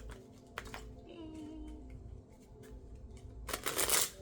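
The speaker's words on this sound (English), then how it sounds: "Hold on, let me pull a card for how you can" Tarot cards are shuffled and one is pulled, giving quiet riffling flutters and light papery slaps, ending in a brighter burst of shuffling near the close, with soft background voice.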